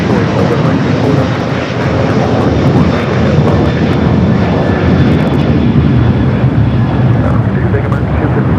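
A jet airliner taking off at Los Angeles airport, its engines producing a loud, continuous roar that holds steady throughout, with faint radio chatter beneath it.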